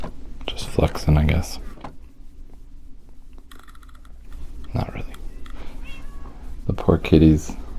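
Several cat meows from a Minecraft game come in short bursts, some whiny and drawn out, with quiet gaps and faint ticking between them.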